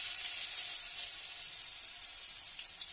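Pui shaak (Malabar spinach) fritters deep-fry in hot oil with a steady, dense sizzle that holds evenly throughout, close and moderately loud, with no voices.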